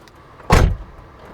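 A 1980s–90s Mercedes-Benz 300CE W124 coupe door shuts with one solid thump near the mic, in a quiet cabin, with the automatic seatbelt presenter beginning to extend.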